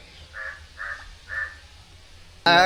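Three crows caw in a slow series, moderately close. A sharp, louder burst cuts in at the end.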